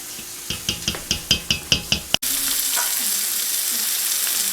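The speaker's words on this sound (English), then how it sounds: "we're just finishing browning our last few pork chops" Pork chops brown in a frying pan: about eight rhythmic taps against the pan come first, then a sharp clack gives way to a steady, dense sizzle that continues to the end.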